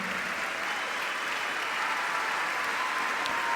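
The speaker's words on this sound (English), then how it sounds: "Let's give a big San Francisco round of applause to the 2019 Goldman Environmental Prize winners." Sustained, even applause fills a San Francisco ceremony hall for the 2019 Goldman Environmental Prize winners, a steady wash of many hands clapping at moderate loudness.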